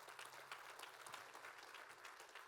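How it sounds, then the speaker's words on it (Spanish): A church congregation at a Spanish-language service applauds, a faint, distant but unbroken rush of many hands clapping together for a couple of seconds. "Dale un aplauso al Señor."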